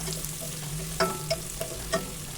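Chopped onion frying in oil for mushroom pulao, a constant close sizzle punctuated by several sharp clinks of a spoon stirring against the pan, with no voices.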